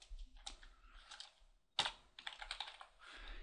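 Computer keyboard being typed on in short bursts of close, crisp key clicks, with a sharp louder keystroke midway and brief quiet pauses between runs.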